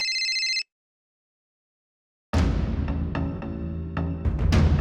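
A telephone gives a short electronic ring burst, then falls silent before a room with voices and shuffling takes over.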